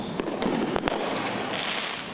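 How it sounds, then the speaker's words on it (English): Fireworks burst over the Fairhill neighborhood of Philadelphia during a holiday celebration: several sharp, loud bangs ring out over a continuous crackling, booming din. "Fireworks lighting up the sky in the city's Fairhill neighborhood."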